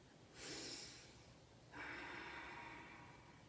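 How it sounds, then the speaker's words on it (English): Two sharp deep breaths drawn in through the nose during a laughter yoga session, each a loud rushing inhale, the second longer and fading slowly, with no talking. "we're gonna take another deep breath"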